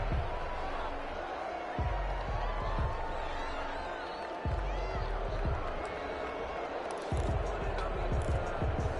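Stadium crowd roaring and cheering during a video game American football match, a continuous dense wash of crowd noise with thumping impacts, overlaid by a commentator talking.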